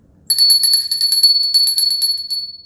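A small bell is rung to open a tarot reading, giving a bright, rapid jingling run of strikes that rings steadily for about two seconds and then fades into a lingering tone, heard alone and close.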